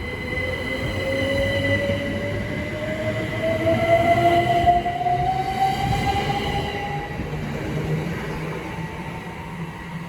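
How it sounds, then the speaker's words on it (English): A Great Western Railway train pulls into Slough station, wheels squealing in a rising pitched tone over a broad rumble that swells mid-way then eases, with no voices. "Now arriving is the 1430 Great Western Railway service from Windsor and Eton Central to Slough."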